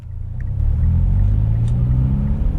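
A Mitsubishi Evo X pulls away, its engine rising into a loud, close, deep rumble that swells after a brief quieter start and holds steady.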